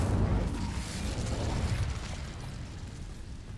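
Incendio fire spell cast in Hogwarts Legacy, a loud roaring burst of flame that starts strongly and trails off into a sustained crackling rumble over a few seconds.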